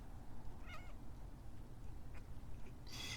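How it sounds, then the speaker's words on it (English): Faint, distant meowing from a cat in outdoor bushes, a couple of short plaintive calls over a quiet hissing background, with a brighter cry near the end. "Psst. It's a cat. Come here."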